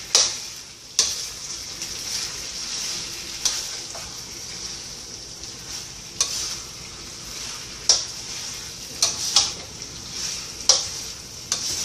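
Orange peel hits hot coconut oil and sets off a steady, bright sizzle, with sharp clicks and taps of stirring at irregular intervals, close and without speech.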